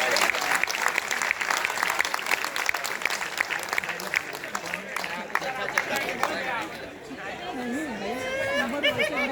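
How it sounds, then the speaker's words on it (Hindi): An audience at a Teachers' Day celebration claps continuously and densely. Crowd chatter and voices mix in throughout, with one voice rising toward the end. "सर के लिए एक बार जोरदार तालियां हो जाए।"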